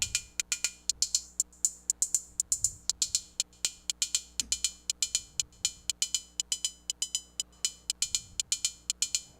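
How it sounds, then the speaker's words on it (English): Synthesized cymbal hits from a Pittsburgh Modular modular synthesizer patch tick out a steady, fast rhythmic pattern of crisp metallic hiss bursts with sharp attacks and short decays, over a quiet low hum. "Hopefully you can hear some cymbals,"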